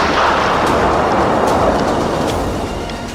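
A loud, broad rumbling blast with a thick, noisy roar that lingers and slowly fades over a few seconds.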